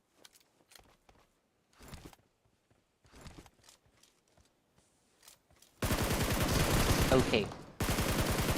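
Gunfire in a video game tournament match: quiet scattered clicks and faint shots at first, then a loud, close burst of sustained rapid fire from about six seconds that cuts off briefly and resumes, with a short spoken word early on.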